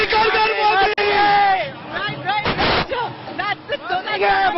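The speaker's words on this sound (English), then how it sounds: "a crazy crowd who come in" A huge, loud crowd fills Trinity Circle in Bengaluru at the end point of PM Modi's Karnataka election roadshow in 2023: dense, continuous babble and shouting, with a sharp swell of cheering midway.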